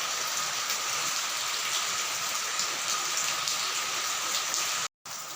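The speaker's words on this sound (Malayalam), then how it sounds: "ഇത്രയും നേരമായിട്ട് ഒരു ശകലം പോലും തോർന്നിട്ടില്ല മഴ." Dense, steady rain pours down with an even hiss throughout, cutting out abruptly for a split second near the end.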